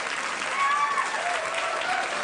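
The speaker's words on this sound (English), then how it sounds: "You know why they're applauding?" A late-night talk show studio audience applauds, a broad, even wash of clapping with a faint murmur of crowd underneath, sustained and close.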